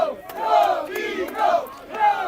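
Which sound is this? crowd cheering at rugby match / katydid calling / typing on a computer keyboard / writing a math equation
crowd cheering at rugby match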